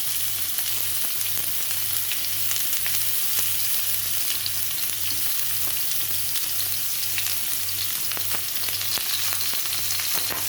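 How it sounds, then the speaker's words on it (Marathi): Finely chopped onion fries steadily in hot oil in a pan, giving a continuous close sizzle with faint crackles and an even rhythmic hum underneath, no voices. "त्यामध्ये मी थोडं तेल घालणार आहे. त्यामध्ये आता आपण कांदा घालून घेऊया, जो आपण बारीक चिरून घेतला होता."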